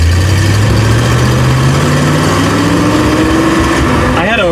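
A loud 1970 Fastback engine idles close by with a steady, throbbing rumble whose pitch slowly rises, ending in a short wavering rev.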